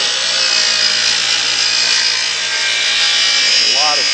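Power saw cutting wooden bow staves for a Piper Super Cub wing tip, a loud, steady high-pitched whine and rasp held throughout with a dust collector running, no pauses in the cut.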